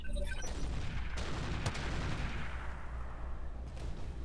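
Artillery fires in the game Roguetech: one heavy boom rolls out near the start, followed by a sharp crack and a long fading rumble, with no voices.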